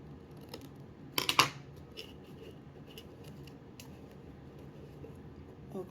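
Paper cut with scissors while making party favors: one brief, crisp snipping burst near the start, close and clear, followed by faint handling noises over a low background hum.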